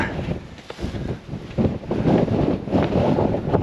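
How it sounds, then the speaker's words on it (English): Gusty wind buffets the microphone outdoors on dry, windy moorland near Princetown, a low rumbling roar that swells louder through the second half, with no voices. "try and get out of the wind"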